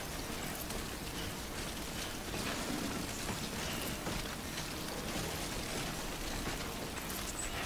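Heavy rain in Death Stranding pours down steadily: a constant, close, even hiss of drops hitting surfaces with no pauses and no talk.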